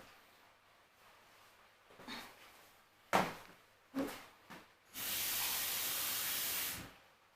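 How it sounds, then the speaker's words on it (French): Water hits roasting cabbage in a hot pan: a few soft knocks and clatters, then a loud, sustained hiss of steam for about two seconds that cuts off abruptly. "je vais encore ajouter un peu de l'eau pour que ça rôtisse encore plus davantage"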